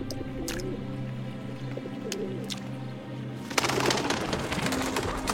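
Pigeons cooing in a steady low rhythm, close and fairly loud, with a few bright chirps; partway through, a broad rush of noise rises and covers the background.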